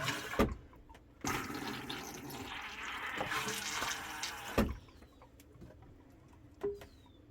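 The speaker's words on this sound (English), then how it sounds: "And I'll flush it just for one more time" A household toilet, recently repaired after a clicking fault, flushes nearby with a loud rushing swirl of water lasting several seconds, then tapers into quieter refilling trickles with a few clunks.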